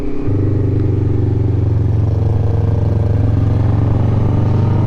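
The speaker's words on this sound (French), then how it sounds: "la moto elle a du mal avec l'altitude là. Elle galère à prendre ses tours" A motorcycle engine drones steadily, laboring at low revs at high altitude on the Great St Bernard Pass, with a strained, uneven growl, close and loud throughout with no talk.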